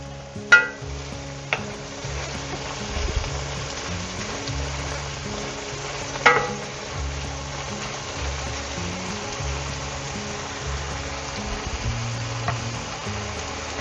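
A Portuguese-style squid and shrimp seafood stew cooking in a pan to burn off alcohol, a steady low bubbling sizzle with a few faint clicks and knocks, even and continuous throughout.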